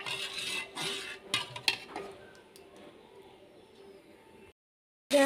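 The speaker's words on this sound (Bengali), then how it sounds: "আমি ভেন্ডিগুলো ছেড়ে দিয়েছি, ওর মধ্যে নুন আর হলুদও দিয়ে এবার ভালো করে এটাকে নাড়বো যতক্ষণ না ভাজা হয়" Okra frying in a pan with salt and turmeric while being stirred, giving a soft sizzle with scattered clinks and scrapes of a utensil against the metal, then a brief pause before one more louder clatter.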